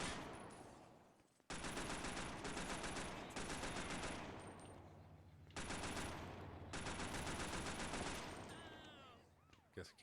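Bursts of rapid automatic gunfire from a crime-themed video game, loud and close, coming in several long rattling volleys separated by short pauses, with a brief siren-like wail near the end.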